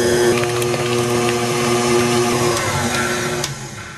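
A stand mixer beats a homemade granola bar mixture, a steady, close motor whir with a constant tonal hum and faint rattling, easing off slightly near the end.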